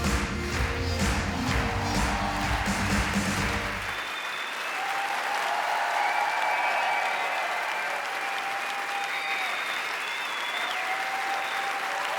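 Applause from a comedy show audience in Montreux greeting comedian Fabrice Eboué, opening with music underneath for four seconds, then steady clapping that carries on alone and does not fade.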